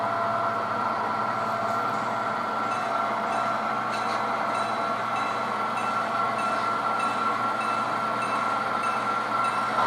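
A freight train rumbles steadily along during switching, its continuous mechanical roar and rolling noise holding at the same level throughout.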